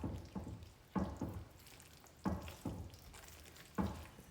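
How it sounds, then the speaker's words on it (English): Chocolate peanut butter mixture for no-bake chocolate cherry cookies stirred in a pot, soft wet sloshing strokes repeating about every second and a half, faint and close with no talk. "You can see how I'm just swirling it in, making it look all peanut butter gooey goodness."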